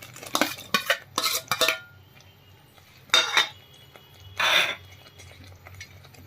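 A spoon scrapes and clinks against a pan while stirring cashew paneer curry, in several short bursts separated by quiet gaps, close and clear with no talk.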